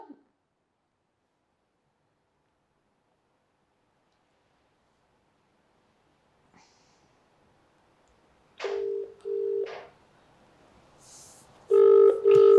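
A phone call being placed to a district additional collector, with a faint click and then ringback-style tones in short bursts and a longer tone near the end, with no talk.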